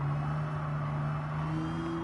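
A steady, droning car engine runs at high revs in the racing game Gran Turismo 7, its pitch stepping up near the end.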